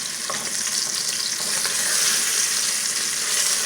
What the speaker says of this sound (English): let the other side fry the same